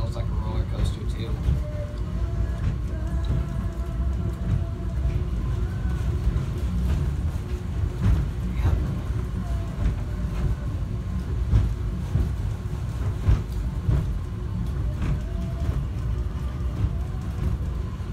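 Subway train heading to the airport terminals, a steady low rumble with rail clatter and scattered clicks throughout, heard from inside the car with talk over it.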